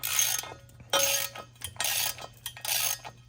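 Ratcheting wrench loosening a bolt on the transfer case of a Dodge diesel truck, four bursts of rapid metallic clicking separated by short pauses, close and fairly loud over a steady low hum.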